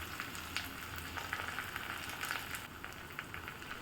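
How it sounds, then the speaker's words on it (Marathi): Chopped garlic, ginger, green chilli and curry leaves fry in hot oil in a pan, giving a faint, continuous crackling sizzle with scattered small pops. "आणि यामध्ये आता बारीक चिरलेला लसूण आणि अद अद्रक घातलेली आहे हे छान असं फ्राय करून घ्यायचं आहे"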